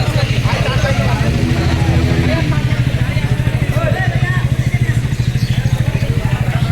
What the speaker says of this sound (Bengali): পুরা দমে টেস্ট ড্রাইভ চলতেছে